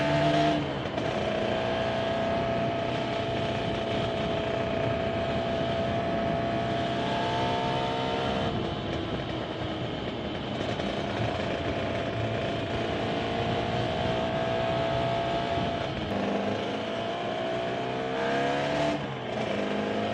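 A Suzuki RG400 two-stroke motorcycle engine runs while riding, a steady buzzing drone whose pitch rises and falls with gear changes and throttle, close and continuous with no talk.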